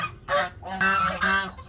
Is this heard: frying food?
no